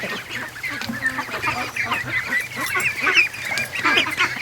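Young Muscovy ducks call in a flock, giving a busy run of overlapping honking, squawking notes at moderate volume, with no talking.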